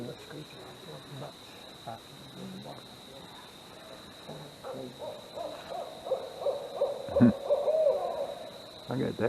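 A distant barred owl hooting repeatedly outdoors at night in a state park, with crickets and faint voices in the background.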